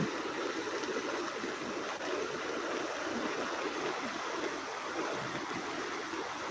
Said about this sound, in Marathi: महापुराची परिस्थिती आहे वरून पाण्याचा विसर्ग वाढलेला आहे नदीमध्ये पण